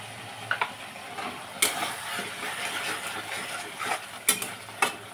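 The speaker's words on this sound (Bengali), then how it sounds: "এখন মশলা আর আলু ভালোভাবে কষিয়ে নিলাম।" Spices and potatoes sauté in hot oil in a pan with a soft, constant sizzle, broken by several sharp scraping clicks of stirring against the pan.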